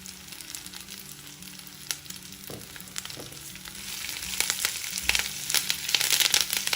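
Onion pieces and curry leaves frying in a pan for a curry leaf chutney, a continuous close sizzle that grows louder and crackles more sharply toward the end, with no talking.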